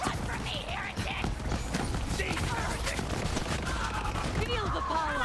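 Rapid gunfire from Amara's elemental build in Borderlands 3 with arcing bullets: dense, continuous volleys of sharp shots rattling nonstop, mixed with game voices and effects.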